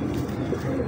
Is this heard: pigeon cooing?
yes